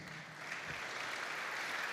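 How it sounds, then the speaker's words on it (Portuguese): An audience at a 5G cybersecurity industry conference applauds. The clapping is fairly quiet and steady, and the burst is brief. "Para todos, uma salva de palmas."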